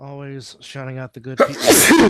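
A single loud, close sneeze bursts out right after someone speaks during a talk show.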